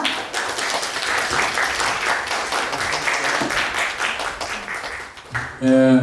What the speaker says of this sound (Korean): 박수로 강수돌 교수님을 모시도록 하겠습니다